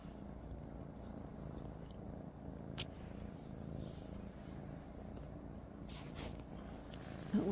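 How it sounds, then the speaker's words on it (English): Steady low rumbling purr of a cat, close and continuous, with faint background noise and no talking. "I don't know if you can hear him purring."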